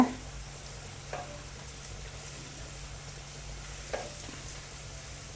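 Sliced onions for biryani fry in a pan with a faint, steady sizzle and a couple of soft stirring taps, quiet and continuous with no voices.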